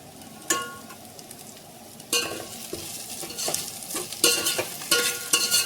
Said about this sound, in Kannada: ಬೆಳ್ಳುಳ್ಳಿ ಪೇಸ್ಟನ್ನು ಬೊಗೋಣಿಯಲ್ಲಿ ಮಿಕ್ಸ್ ಮಾಡಬೇಕು